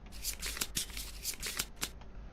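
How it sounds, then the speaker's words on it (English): Playing cards for the Kingdom Death board game get riffled several times in quick succession, a close, soft, crisp fluttering with no one speaking. "Triple shuffle."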